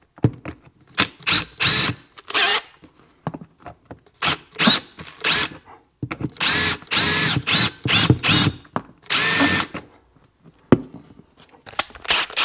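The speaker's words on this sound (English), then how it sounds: "I want to drill that rivet out." A power drill runs in repeated short bursts, stopping and starting as it drills out a rivet on a 2001 RXDI, close by, with brief quiet pauses between runs.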